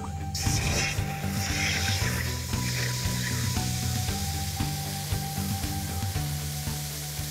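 Stock poured into a hot pan with minced pork and garlic sizzles loudly and continuously, a dense frying hiss with bubbling and a faint tonal hum underneath.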